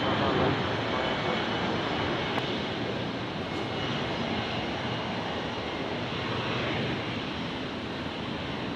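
A Velocity passenger jet comes in to land on runway 19 left at Brisbane Airport at night, its engine roar broad, loud and unbroken throughout.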